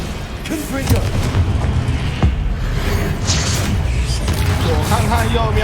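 Confringo blasting spell explosions in Hogwarts Legacy, loud booming blasts and crackling impacts over busy game sound, with a voice talking throughout.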